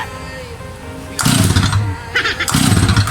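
A small engine sputters to life in two loud bursts after a quieter, rumbling start, revving rough and close like a chainsaw starting.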